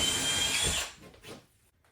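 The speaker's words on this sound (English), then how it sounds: "I'll go ahead and use my drill, and I'll drill a couple of holes." A power drill whirs loudly into drywall for under a second, then stops, leaving a few faint clicks.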